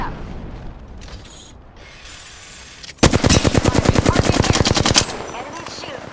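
Automatic weapon fire in the video game Apex Legends, a loud rapid burst of about two seconds of evenly spaced shots that ends abruptly, coming after quieter mechanical clicks and ambient game noise.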